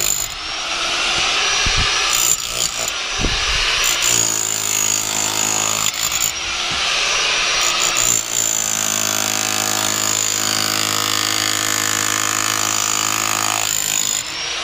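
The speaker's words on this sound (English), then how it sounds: "you can see the hammer drill just takes it right off of there" Hammer drill chipping overpoured concrete off a sump pump pit in a crawl space, a loud steady pounding rattle that runs almost the whole time with brief shifts in pitch and load.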